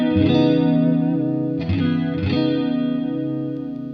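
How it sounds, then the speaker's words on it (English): Sustained guitar chords through a Swindler Effects Gulf chorus pedal set all the way up, with a deep, throbbing chorus swirl and two restruck chords midway that ring out and slowly fade. "Getting some really deep throbbing chorus sounds from this one."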